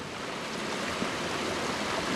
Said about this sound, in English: This is the brook we're going to be walking along.